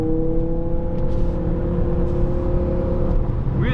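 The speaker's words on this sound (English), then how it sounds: "that V10 stops this car when you're on compression strokes." A BMW M5 with a 500-horsepower V10 and six-speed manual gearbox, heard from inside as a steady engine drone with a harmonic whine and a slight rise in pitch near the end.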